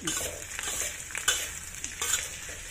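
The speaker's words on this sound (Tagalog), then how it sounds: "Ngayon maglalagay ako ng garlic. So, ayan. I-fry lang muna natin yan" Garlic and onion fry together in a pan, giving a dense, close hiss of oil with a few quick stirring scrapes over a short stretch.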